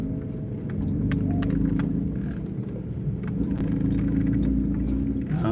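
An off-road vehicle crawls along a tight trail past dead trees, its underside scraping at the center, a steady low rumble with grinding and rattling throughout, loud and close.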